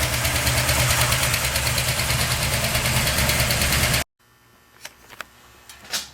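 A 350 V8 engine with a solid lifter cam idles loudly with a rapid, even ticking chatter for about four seconds, then cuts out abruptly, followed by a few faint knocks and clicks.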